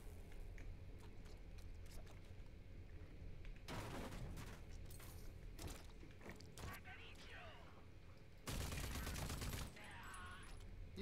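Assault rifle gunfire in the shooter game Rage 2: two loud sustained bursts of automatic fire over a constant mechanical rumble, with voices talking in the background.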